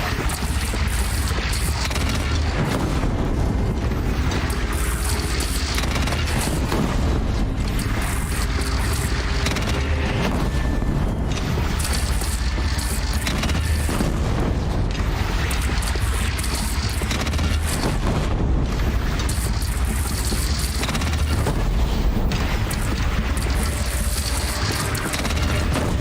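Bandit cannon fire in Horizon Zero Dawn, set in a loud, continuous battle din of repeated booms and crashes that lasts the whole stretch with no pauses.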